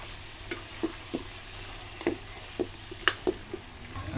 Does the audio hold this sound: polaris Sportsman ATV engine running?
no